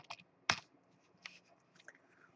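Sharp computer mouse clicks at a trading desk, one loud click followed by a few fainter ones, close and dry with no talk.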